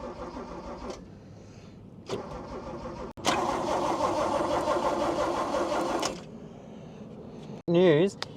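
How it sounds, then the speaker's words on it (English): With the coil lead pulled so there's no spark, the engine of a classic Toyota Cressida MX32 cranks over on the key, a few short bursts then a long steady churn of several seconds, with a voice briefly heard nearby. "So now we know the engine cranks over"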